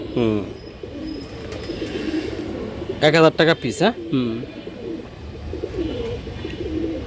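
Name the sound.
Giribaz pigeons cooing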